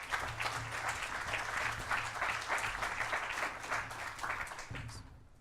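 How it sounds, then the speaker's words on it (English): An audience applauds a speaker named Penny at the Auckland Climate Symposium. The clapping is steady, close and continuous for about five seconds, then thins out at the very end. "A very big hand for Penny,"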